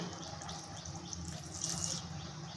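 Water is poured into a pot of fish roe curry with sesame paste and fried onion paste, a soft steady trickle and splash lasting a couple of seconds, close and fairly quiet.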